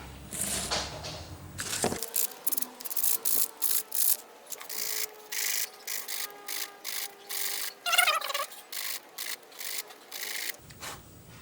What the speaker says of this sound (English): might as well give it a bit of a sand